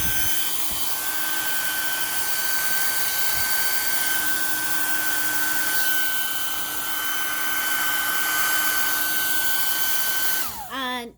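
Hair dryer on its high heat setting, used to fix a stuck bobbin winder on a sewing machine, blowing with a loud continuous whine and steady whoosh throughout, cutting off abruptly at the end.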